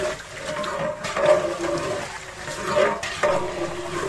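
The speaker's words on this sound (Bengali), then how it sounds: "এরই মধ্যে দিয়ে দেওয়া হবে জাফরান মিশ্রিত পানি" Saffron-infused water pours into a pan of chicken roast, giving a steady liquid splashing and sizzling texture with small surges near the mic and no talk.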